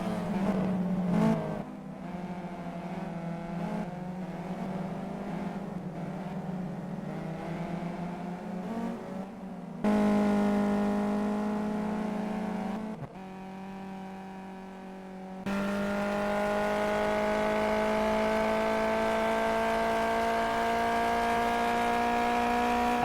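Race cars in the Simraceway sim racing game accelerate hard, engines whining steadily up through the revs with abrupt gear changes and shifting pitch, loud and close with no talk over them.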